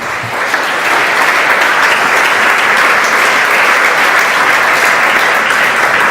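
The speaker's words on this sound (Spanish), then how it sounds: "Denle un fuerte aplauso porque Él vive y reina." A church congregation claps loudly and steadily for about six seconds, a dense, sustained wash of applause with no voices rising above it.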